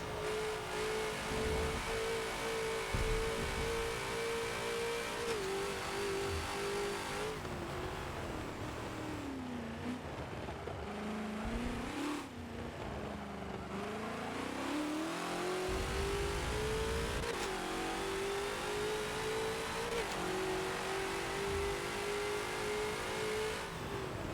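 A Ford GT40 race car in the Forza racing game on the Spa circuit, its engine droning loud and steady, pitch sliding down and back up as the throttle eases off and reapplies through a corner, no voices.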